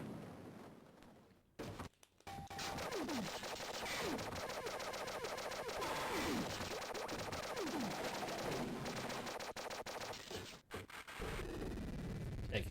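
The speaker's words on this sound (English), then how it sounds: "then it malfunctions and throws bombs everywhere" A video game jetpack malfunctions and flings bombs everywhere, setting off a dense stream of rapid explosions and gunfire-like bursts that keeps going loudly for about ten seconds and then cuts off abruptly.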